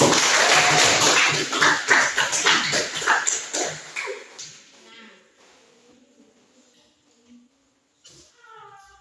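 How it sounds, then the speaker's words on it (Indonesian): A classroom group claps for group 3, a burst of loud, overlapping hand claps for about four seconds that quickly fades into quiet, with a few faint voices afterward. "kita berikan aplaus untuk kelompok 3"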